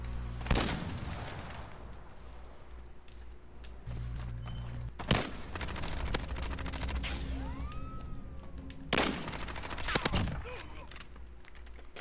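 Pistol fire in a one-on-one video game match comes as scattered sharp cracks, with a few loud close shots and shorter bursts between quieter stretches.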